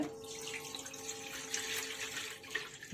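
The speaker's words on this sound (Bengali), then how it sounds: "জল দিয়ে দিলাম" Hot water pours steadily into a pot of cut hyacinth beans in a home kitchen, a quiet, continuous splashing stream lasting a few seconds.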